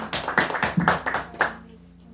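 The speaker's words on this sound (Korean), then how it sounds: "주님께 영광의 박수 올려드립니다." A church congregation claps in praise, several hands hitting in a quick uneven rhythm, up close and fairly loud, then fading out into near silence after about a second and a half.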